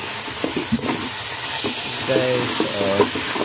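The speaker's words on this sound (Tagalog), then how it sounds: "Ginigisa ko muna para medyo malasap siya guys." Pork sautés in a pan for sinigang, a steady nearby sizzle and hiss with a few brief clinks and short tonal squeaks rising over it.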